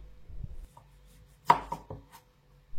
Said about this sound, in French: Je coupe les extrémités.